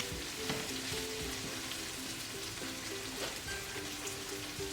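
Pepper fries in hot oil in a pan while it is turned, a steady close sizzle with occasional stirring scrapes and no talking.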